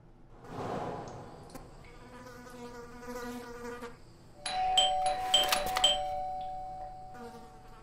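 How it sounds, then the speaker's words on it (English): A doorbell rings in the detective video game Blues and Bullets, a bright chiming tone sounding midway over a low droning musical background. "I thought I should use the doorbell so I wouldn't startle you."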